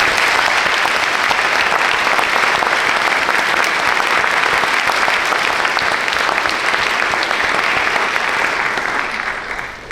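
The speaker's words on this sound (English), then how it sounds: "One more round of applause for our staff." An audience at a school academic awards ceremony gives the staff a long round of applause, dense and steady clapping filling the room for about ten seconds before tapering slightly at the end.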